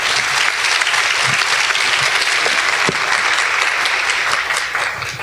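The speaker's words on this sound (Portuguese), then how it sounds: "Aplaudam o Hugo, por favor" Audience applause at an inter-religious dialogue gathering, steady dense clapping from a full room that holds at one level for the whole stretch, loud and without talk.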